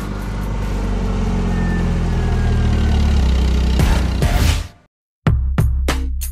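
Car engine running at a steady idle throughout, loud and close, with a brief louder surge before it cuts out to near silence, then fires up again with a few sharp clicks, set in a Russian morning TV game show.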